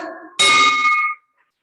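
A single bell rung at a Rotary Club meeting gives one bright, ringing strike that sustains for nearly a second and then decays, loud and close, with no talk over it.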